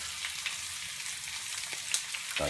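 Pork chops sizzle in a frying pan with a soft, even hiss, broken by a couple of brief clicks and scrapes near the end as they are moved around.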